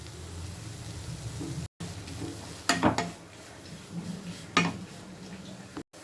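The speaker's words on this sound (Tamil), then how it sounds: "நல்லா வதக்கிக்கோங்க" Capsicum and cabbage get stirred and sautéed in a pan for a chapati noodle dish, with a soft background sizzle, two sharp scraping clanks of the spatula against the pan, and faint talk underneath.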